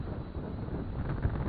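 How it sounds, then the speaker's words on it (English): Strong wind buffets the microphone outdoors during a drone flight, a continuous rough, low rumble with gusty swells and no talking. "It's really windy out here"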